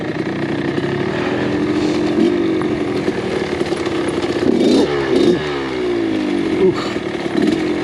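A Kawasaki KX100 dirt bike engine riding up in hilly terrain, revving steadily with rising and falling pitch sweeps as the throttle is worked, loud and close throughout.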